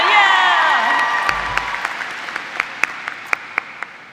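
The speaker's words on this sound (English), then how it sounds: "Let's give one more round of applause to all of our graduates." A graduation ceremony audience at W.J. Mouat Secondary in 2022 applauds the graduates in a full, steady roar of clapping and cheering. A high whistle or shout rises near the start, and individual claps stand out as the applause goes on.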